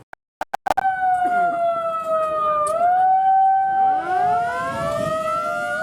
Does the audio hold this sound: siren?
yes